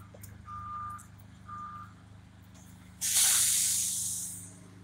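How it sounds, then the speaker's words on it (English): A construction vehicle reversing gives two evenly spaced, fairly faint beeps over a low engine rumble, then a loud hissing burst like released air or steam. "So I guess they're doing construction over there too, so it'll probably be a little loud for a few of you guys."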